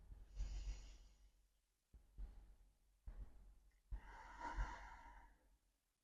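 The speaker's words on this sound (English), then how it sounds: "1 more breath, fully in and out." A person takes a slow, deep breath fully in and out during a resistance-band arm exercise session, soft close inhales and exhales with a few sighing, snort-like breaths in a quiet room.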